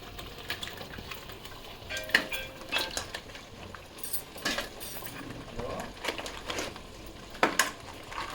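Large crabs tipped into thickened curry gravy in a pot, with clinks and knocks of a spoon and utensils against metal scattered over a low background; faint and close.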